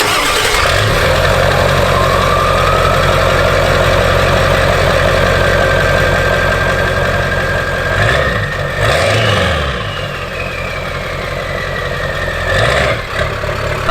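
A 1997 Ford F350 with a 7.3 Powerstroke diesel, 4-inch exhaust and no muffler or cat, idles loud and close with a deep rumbling, then gets a couple of brief blips of revving before settling back to a heavy idle.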